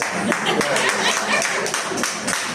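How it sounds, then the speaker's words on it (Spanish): A church congregation at a Spanish-language baptism service breaks into scattered clapping that carries on unevenly under a lively, echoing room sound. "Den un aplauso."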